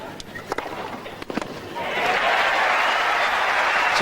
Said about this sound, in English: The crowd really giving Anna Kournikova a big cheer when she sent down that serve